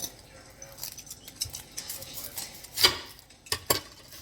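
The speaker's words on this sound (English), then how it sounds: "So we're gonna cut half an onion." Half an onion being cut on a cutting board with a knife: quiet scraping and rubbing, then a few sharp, close chops and taps toward the end, no speech.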